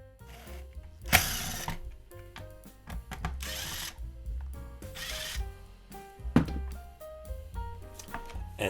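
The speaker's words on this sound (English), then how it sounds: "remove these screws." Screws being removed from the cylinder head of a Paslode nail gun with a power driver, several short whirring bursts separated by pauses and small clicks, close and fairly quiet.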